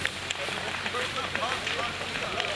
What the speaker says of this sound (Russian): Огонь распространяется молниеносно. Пламенем охвачены два дома.